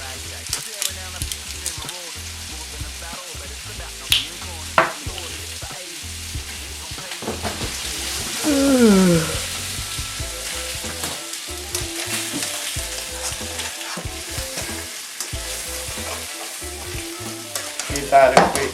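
Food with Thai seasoning and a fair bit of oil being stir-fried in a pan, a steady sizzle running throughout with occasional clacks of utensils and a brief louder flare partway through.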